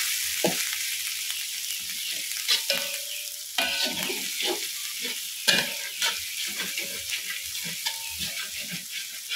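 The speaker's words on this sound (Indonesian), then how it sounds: "lalu kita tumis bahan bumbu yang kita giling" Ground spice paste stir-fries in hot oil, a soft sizzling crackle punctuated by frequent scraping and clinking of a spatula against the pan, close and uneven in rhythm.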